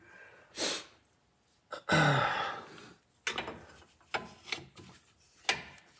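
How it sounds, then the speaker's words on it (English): A three-quarter wrench works a bolt on a front differential, giving scattered short metallic clicks and scrapes with gaps between, fairly faint and close. "So three-quarter wrench right here."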